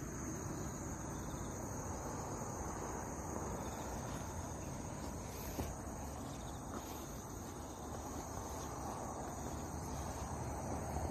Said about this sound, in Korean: 메뚜기가 놀러 왔네요.